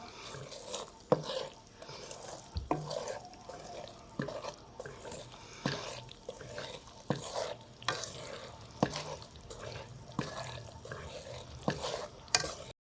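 Semolina dry-roasting in a pan for halwa to serve with puri, stirred with a utensil that scrapes in repeated strokes, each swipe a short clear rasp over a soft steady sizzle, close and with no talking.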